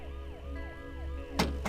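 An ambulance siren wails in a repeating rising and falling sweep, steady and moderately loud, with low engine rumble beneath and two sharp knocks like a door near the end.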